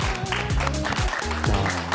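A studio audience applauds a lecturer on a Korean morning TV talk show, with steady, dense clapping throughout that sounds loud and close, mixed with background music and some voices.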